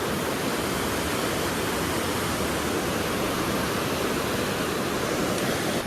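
Rushing water at the Netravati dam, a loud, steady broadband roar that holds constant for several seconds with no voices over it.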